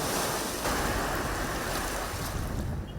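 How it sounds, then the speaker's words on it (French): Ocean waves break along a beach where colorful pirogues rest, driven by a strong sea wind, with a steady, loud roar of surf and wind buffeting the microphone throughout. "le déferlement des vagues poussées par le vent de la mer"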